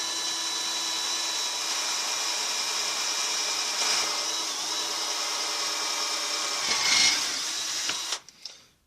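A power drill with a dull bit whines steadily for about eight seconds, loud and close, its pitch shifting slightly as it bores through, then spins down and stops.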